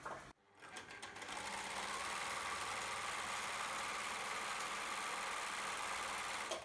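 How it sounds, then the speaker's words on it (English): Overlocker sewing machine stitching a straight seam along a fabric edge with black cotton thread, a steady, loud, close mechanical whir running continuously after a brief start, with no talking. "I'm just using an overlocker to get a straight line here to close the side off"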